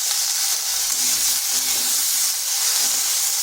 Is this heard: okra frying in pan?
yes